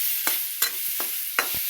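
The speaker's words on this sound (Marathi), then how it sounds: "आता सगळं असं हलवायचं बघा." Mutton masala with salt is stirred in a frying pan, a spoon scraping in quick separate strokes against a steady sizzle, close and clear with no talk.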